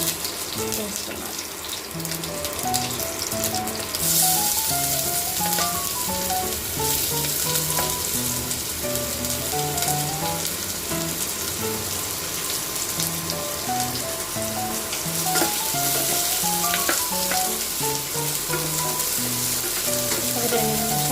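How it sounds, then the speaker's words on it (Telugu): Sliced onion and green chilies frying in a pan, a steady bright sizzle that runs continuously for about twenty seconds, with clinking and stirring sounds on top. "అందులో పచ్చిమిర్చి చీలికలు 2, సన్నగా కట్ చేసిన ఆనియన్ వేస్తున్నాను."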